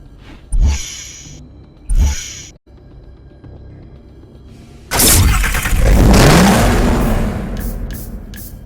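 Chevrolet Camaro engine startup in Need for Speed Hot Pursuit Remastered: two short loud starter-like bursts, a lull of idle, then the engine fires with a loud roar and rising rev before settling into a steady rumble.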